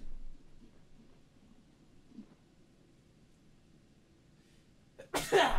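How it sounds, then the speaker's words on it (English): One sharp, loud human sneeze bursts out at the very end after several seconds of near silence and faint background rustle. "And I have to sneeze."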